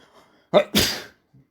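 A single close, sharp sneeze from someone with hay fever, with a quick inhale before it, followed by quiet.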